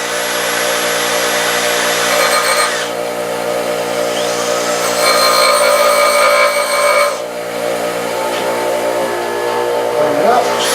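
Chamfering the end of a threaded rod stud at low speed on a machine produces a loud, steady motor hum with a bright grinding rasp that swells and eases over several passes.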